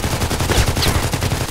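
Gunfire from a sniper rifle in the online shooter Contract Wars, a dense, loud stretch of rapid shot-like bursts with no pauses.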